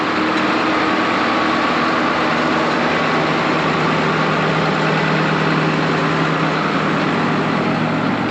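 A farm tractor engine idles steadily in a grain-cart harvest setup, a loud, continuous low rumble with an even broadband drone and no pauses, close to the microphone throughout.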